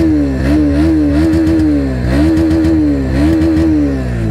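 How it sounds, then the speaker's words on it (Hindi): Exhaust note of a 2024 Bajaj Pulsar NS125 motorcycle with a 125 cc single-cylinder engine, idling near and loud with steady rhythmic pulses and several short blips of revving, no talk. "यहाँ पर एक बार आप इसका एग्जॉस्ट साउंड सुन लीजिए।"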